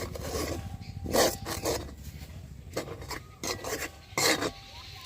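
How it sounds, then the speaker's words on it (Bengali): Boiled rice flour is stirred in a pot with a series of short, raspy scraping strokes. They come in irregular bursts with quiet gaps between them, close by and moderately loud. "তো এবার আমি একটু নেড়ে সবকিছু মিশিয়ে নেব।"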